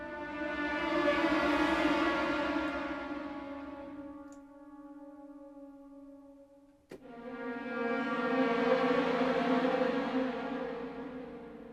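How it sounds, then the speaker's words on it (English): Orchestral combo of low woodwinds, a swelling cluster chord, horns and trombones from the Symphobia 4 Pandora library: a sustained brassy chord that fades, pauses briefly, then swells again loudly with a sharp attack, no voices. "cluster swell, horns and bones, and it all sounds like this."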